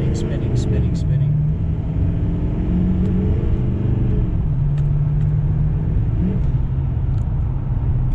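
An L5P Duramax diesel truck with calibrated tuning accelerates hard as its wheels spin, a loud, close engine drone rising and dropping in pitch through the pull, with steady road rumble and tire noise beneath it.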